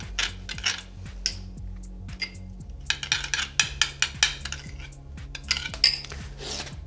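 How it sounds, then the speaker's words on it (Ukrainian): Black pepper marinade for zucchini and vegetables stirred in a bowl, with a spoon clinking and scraping against the bowl in a steady series of light taps over a low background hum. "перемішуємо маринад"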